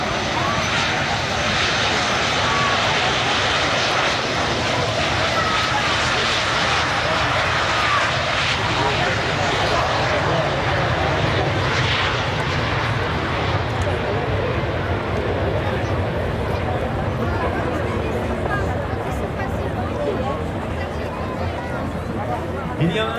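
Aircraft of the Tranchant aerobatic patrol taking off at an air show in Pontoise, a loud continuous engine roar holding steady throughout, with crowd murmur and a voice talking over it.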